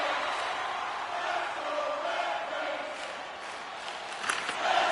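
An arena crowd at an NHL 25 hockey video game keeps up a dense, continuous roar across the whole stretch, swelling slightly near the end, with faint voices blended into the din.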